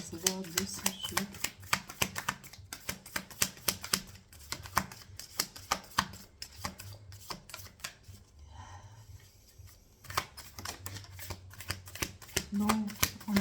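An oracle card deck being shuffled by hand, with a rapid run of crisp riffling snaps in bursts, a short pause midway, then more quick shuffling; the shuffling is near and fairly quiet, with faint talk in the background.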